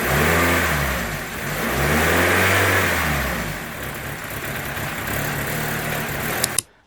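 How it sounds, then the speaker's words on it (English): A faulty Toyota Yaris engine revs in a few rising and falling sweeps over a rough idle, moderately loud and close, ending with a brief clatter and sudden cutoff. "Give it a bit of revs."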